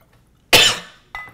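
A single sharp, loud cough from a person with a two-month-long cough bursts out and trails off, followed moments later by the start of a second cough.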